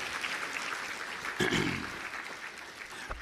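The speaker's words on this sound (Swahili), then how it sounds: "Piga makofi mengi sana kwa Mheshimiwa Rais tafadhali" A short burst of applause for the President from a crowd at a government ceremony in Dodoma, Tanzania, moderately loud then thinning out, heard at some distance.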